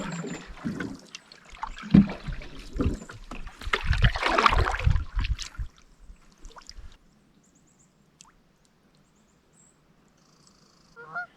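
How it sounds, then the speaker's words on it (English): Canoe paddle strokes on a remote Maine lake thick with muck, a series of splashy pulls in the first half, then near silence with only faint ambient water at the end. "I'm paddling for all I got"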